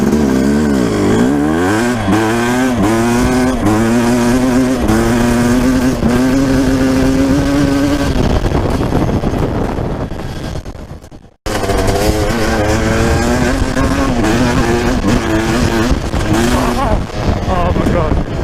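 A 12-year-old two-stroke dirt bike accelerates from a standing start. The engine rises loud and close, drops out briefly, then revs hard again.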